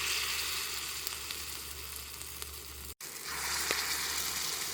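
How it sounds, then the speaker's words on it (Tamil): Vegetable kundu dosa batter fries in plenty of oil, giving a close, continuous crackling sizzle that drops out for an instant partway through, then returns slightly brighter. "அப்படி பொரியுது."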